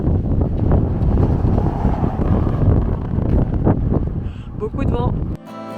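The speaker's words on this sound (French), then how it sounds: "Beaucoup de vent." Strong wind buffets the microphone at a scenic viewpoint in an Arizona national park, a loud continuous roar and rumble that drops away at the end, where faint voices can be heard.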